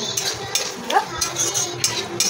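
Food gets stirred in a pan with a few quick spoon scrapes and light clinks over a faint sizzle, short and close, with a brief murmur of voice in the background.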